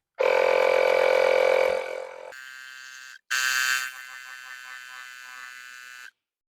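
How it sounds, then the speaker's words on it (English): A battery-operated electric tire pump inflates an air spring bag through a Schrader valve with a loud, steady motor drone that drops in pitch, cuts out briefly, then restarts and runs on before stopping. "now we're going to grab our electric tire pump, just a battery operated one, hook it to our Schrader valve, pump up the bag"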